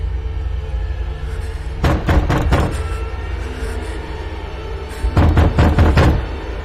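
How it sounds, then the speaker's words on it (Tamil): A door is knocked on in a horror-comedy film scene, with two sharp bursts of four or five quick, loud raps separated by a few seconds of low background hum. "நீ ஏன் கதவு தட்டுற?"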